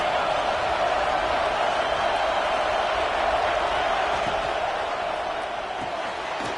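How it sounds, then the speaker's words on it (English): Steady roar of a stadium crowd during a college football video game at Notre Dame, a dense, loud wash of noise holding level throughout with no clear individual voices. "This crowd trying to make life miserable for this offense."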